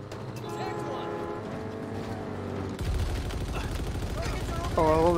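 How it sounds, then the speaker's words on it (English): Turret fire in the video game Halo Infinite rattles in a dense, rapid burst that swells partway through, loud over game music and effects, with a voice talking underneath. "Oh, I love the turret sound."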